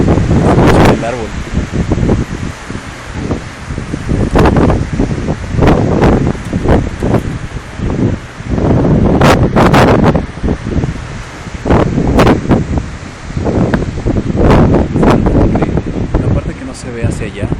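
Wind rushes through a tree's leaves in San Miguel de Allende in a loud, surging rustle, with gusts swelling and easing in waves and buffeting the microphone.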